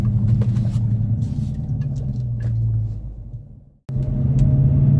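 Road traffic sits backed up on a neighborhood detour, with a steady, loud low engine rumble from nearby cars that briefly fades and cuts out before resuming just as strongly.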